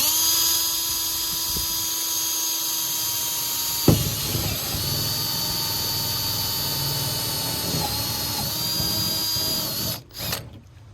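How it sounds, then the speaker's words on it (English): A power drill bores bolt holes into the widebody panel of a Dodge Challenger Hellcat, a steady close whine that rises in load as pressure is applied and then cuts off near the end. "drill bit, you're gonna drill. That's for your bolt and your hardware to go through."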